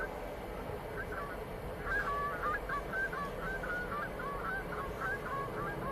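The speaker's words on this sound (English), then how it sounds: "Some geese flying around somewhere, making a lot of noise." A flock of geese flying somewhere near Manchester Airport keep up a chorus of honking, a repeated run of calls set fairly far back against steady outdoor rumble.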